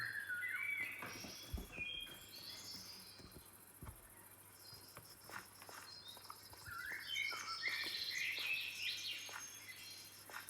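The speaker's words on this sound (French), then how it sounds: "il y a plus de sons, des sons d'oiseaux et tout ça" Ambient birdsong from a Minecraft sound mod, with scattered chirps and trills over a steady cricket-like insect drone, quiet and continuous throughout with no talking.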